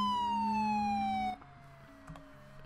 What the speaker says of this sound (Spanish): Pero sirena con sonido.